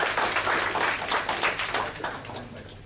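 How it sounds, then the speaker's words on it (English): An audience claps for the evaluators at a speaking club meeting, a steady round of applause from a modest group that tapers off over a few seconds. "Let's give a round of applause to the evaluators."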